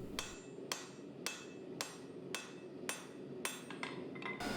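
Sharp metallic hammer strikes land at an even, steady rhythm, roughly eight blows, as Damascus steel is forged and drawn out with drawing dies, fairly quiet, with no talking.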